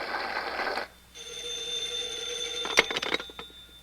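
An old telephone bell rings with a steady metallic trill after a brief pause, followed by a few sharp clicks and clatters, heard alone and fairly close at moderate volume.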